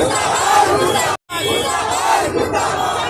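Crowd of protesters chanting slogans against the Modi government at a district collectorate gate in Bhagalpur during a trade union strike, loud massed voices shouting in unison with a brief break between chants.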